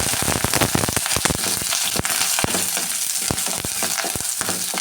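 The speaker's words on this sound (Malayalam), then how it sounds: "കറിവേപ്പിലയും ചെറിയുള്ളിയും വറ്റൽമുളകും കൂടി ഇട്ട് കൊടുക്കാം" Curry leaves, shallots and dried chillies crackle and spit in hot coconut oil after mustard seeds, a loud dense sizzle with sharp popping bursts throughout.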